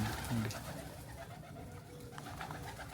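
Soft cooing of pigeons nearby, low murmuring calls over a busy background hiss, with faint voice-like sounds.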